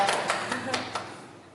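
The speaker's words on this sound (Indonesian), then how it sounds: "Kita beri tepuk tangan dulu dong." A church congregation at a worship service claps briefly, about five distinct claps in a sparse, quick burst that fades out, with speech in the room.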